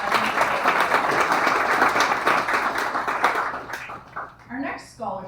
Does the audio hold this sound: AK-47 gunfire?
no